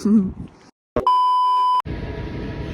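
A machine gives one clear, steady electronic beep lasting under a second, set between short stretches of indoor noise and a voice.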